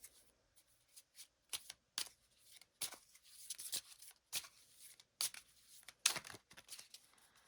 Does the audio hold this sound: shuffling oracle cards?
yes